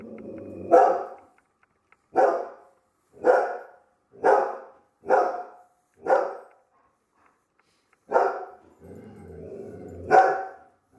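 A dog barks repeatedly, about eight sharp barks spaced a second or so apart, fairly close, with quiet gaps between them.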